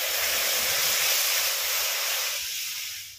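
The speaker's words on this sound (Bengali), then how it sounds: "মোচাটা সিদ্ধ করার জন্য এবার কড়াইতে জল দিয়ে দিচ্ছি" Water poured into a kadai (wok) while cooking banana flower, a loud steady splashing hiss that fades slightly toward the end, close and without talk.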